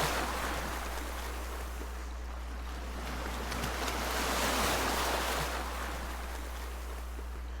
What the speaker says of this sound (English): I've always loved the sound of the waves.